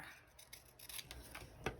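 Scissors fussy cutting paper for a junk journal, quiet close snips and paper rustling in short irregular bursts, ending with a sharper louder snip.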